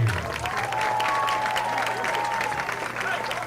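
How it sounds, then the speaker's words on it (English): Stadium crowd applauding 2025 Hall of Honor inductees at a Henderson State Reddies football game, a steady broad wash of clapping and cheering sustained throughout, with faint voices and a tonal whistle-like line riding over it. "let's give one more big Reddie round of applause for all of our 2025 Hall of Honor inductees"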